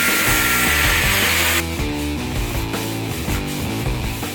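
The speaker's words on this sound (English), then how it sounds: "There are some nails on this thing which you don't want in your hands, so you're going to grind those off." Power grinder cutting nails off wooden beams, a loud sustained harsh whine with a bright hissing edge that eases after a moment into steadier grinding.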